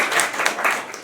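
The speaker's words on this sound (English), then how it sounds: "Round of applause." Audience applause for a player introduced on stage at a live tabletop role-playing show, a short burst of dense clapping.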